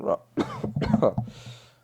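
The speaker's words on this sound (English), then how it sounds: "Oh, and I was just coughing." A few short, rough coughs from a nearby person, spaced over about a second, followed by a faint hiss.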